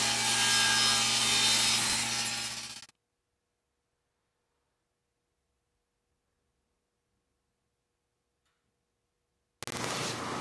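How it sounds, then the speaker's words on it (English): Wood for a chessboard top and border being cut to size, a loud steady power-saw rasp for about three seconds, then near silence, then the cutting noise returning abruptly at the end. "So I got my measurement and cut the top down to size."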